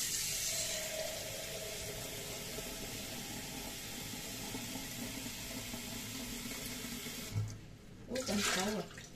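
Tap water runs steadily into a kitchen sink during salad preparation. The broadband rush is continuous and fairly close, and a few clattering handling noises break in near the end.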